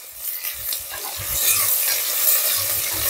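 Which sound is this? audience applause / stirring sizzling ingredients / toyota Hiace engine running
stirring sizzling ingredients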